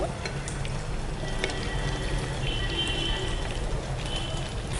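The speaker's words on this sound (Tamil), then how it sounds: "காஞ்சிருச்சுன்னா நம்ம சிக்கன் போட்டு பொரிச்சு எடுத்துடலாம்" Chicken 65 pieces deep frying in hot oil in a kadai over a low flame, a steady close crackling sizzle with faint bubbling that holds evenly throughout, with no voices.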